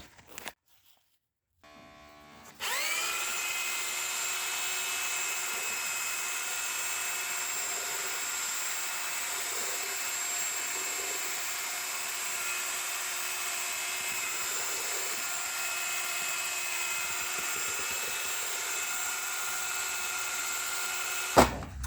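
After a brief pause, a drill mixer starts up and whirs continuously at a steady high pitch, churning crystalline waterproofing mortar mixed with water close by, with occasional slight load changes.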